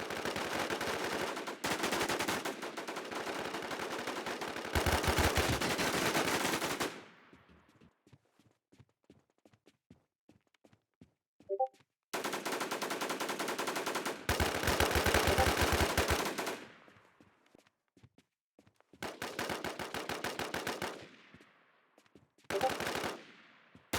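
Bursts of automatic gunfire from the survival shooter WarZ, several long loud volleys separated by quieter gaps with faint footsteps and single shots.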